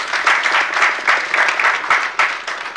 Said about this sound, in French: On peut applaudir Mireille.